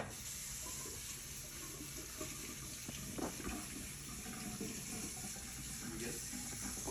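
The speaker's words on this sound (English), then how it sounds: "All right, so we just finished washing our hands." Water runs steadily from a tap into a sink while hands are washed during a room turnaround after removing gloves and mask, a continuous close splashing hiss with soft shifting splashes throughout.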